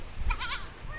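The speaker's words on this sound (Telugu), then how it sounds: "ఇవన్నీ మేకలే" Goats near Perupalem Beach in Andhra Pradesh let out a short, wavering bleat close by, followed by a quieter nasal call amid light background noise.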